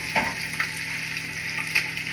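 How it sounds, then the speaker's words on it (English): Turkey bacon sizzles steadily in a hot pan, a constant crackling hiss dotted with small pops. "sizzle up a little bit of turkey bacon with this."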